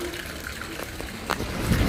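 Water runs into a bucket with a continuous splashing rush, building slightly louder toward the end, with faint background voices.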